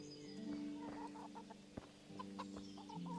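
Chickens cluck and a rooster calls repeatedly in a Kingdom Come: Deliverance farmyard, the steady soft clucking layered with occasional sharper calls and faint bird chatter throughout, with no talk.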